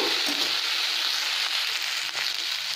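Okra (vendaikkai) sautéing in a pan for a South Indian fry crackles with a dense, loud, even sizzle that holds steady throughout with no pauses.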